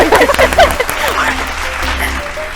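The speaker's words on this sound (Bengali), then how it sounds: "জোরে হাততালি, ভুলে যাচ্ছি সবাই হাততালি" A studio audience on a family game show claps briefly. A louder voice overlaps the opening seconds, then the applause thins into a softer patter over a steady background hum.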